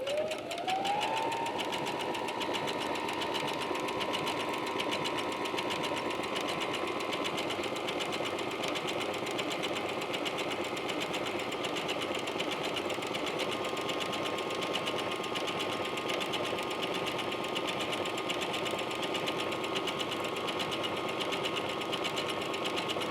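Sewing machine running steadily through a multi-point zigzag seam, a continuous close mechanical whir with a rapid needle patter that holds constant pitch throughout.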